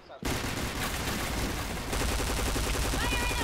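Rapid bursts of automatic gunfire from P90 and AUG weapons in the video game Point Blank crackle almost continuously, loud and close, with dense overlapping shots.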